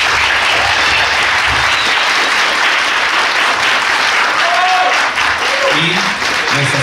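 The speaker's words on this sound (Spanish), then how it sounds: "Un aplauso, por favor." Sustained, dense applause from an audience at an academic humanities colloquium, loud and continuous throughout, with a few voices rising near the end.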